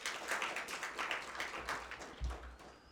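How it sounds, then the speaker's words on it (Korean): Applause for congregation members during a Sunday church service, a faint, steady patter of clapping hands spread across the room, continuous and moderately distant throughout. "박수로 격려하겠습니다"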